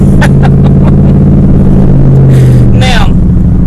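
A car drives along with a loud, steady engine rumble filling the cabin, and brief voice sounds rise over it near the end.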